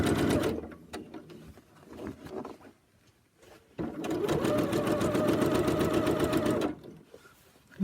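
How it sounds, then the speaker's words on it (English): A sewing machine stitches the hem on the back of a surgical cap in loud, rapid mechanical bursts: a few short runs at first, then a longer steady run of about three seconds before it stops. "gonna sew just as far up as this hem on the back of the cap"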